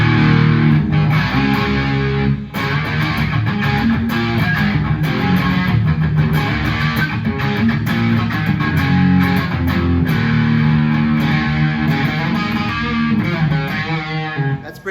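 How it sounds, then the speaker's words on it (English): Heavily distorted electric guitar on a headless guitar, bridge pickup, volume fully up, plays loud, crunchy chords and riffs continuously, with brief choppy pauses between strums. "volume all the way up, full distortion."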